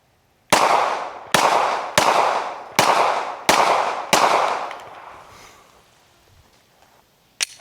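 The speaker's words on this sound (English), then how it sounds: "Like Glock 19 versus HP laptop." Six sharp, loud Glock 19 handgun shots fired at an HP laptop crack out in a steady sequence about a second apart, each with a short echoing decay, followed by a quieter tail.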